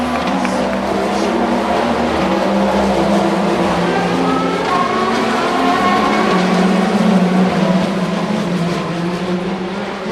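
Le Mans GT, LMP2 and hypercar race cars stream past near the Goodyear Bridge. A dense, continuous roar of engines rises and falls as cars pass, loud and unbroken throughout.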